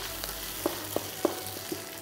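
Chopped onions frying in a pan of hot oil for a Sri Lankan isso (prawn) curry, with a steady low sizzle and a few soft clicks of stirring spaced through the stretch, no voices.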